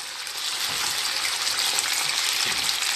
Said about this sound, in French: J'ai aplati ma viande hachée, j'ai fait des petites rondelles, comme ceci. Et je vais les faire cuire.